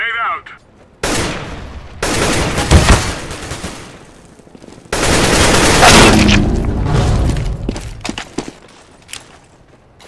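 Loud, close grenade blast and bursts of gunfire in the Counter-Strike video game during a co-op mission, heavy booming impacts and rattling shots separated by short quieter gaps, with a voice talking briefly.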